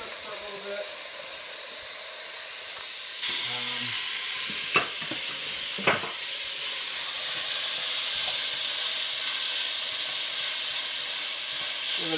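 Hamburger meat frying in olive oil in a hot pan, a loud continuous hiss that swells partway through, with a couple of brief utensil knocks and a voice speaking early on.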